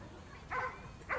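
Two short, faint dog barks come a moment apart, distant and soft against a low background hum.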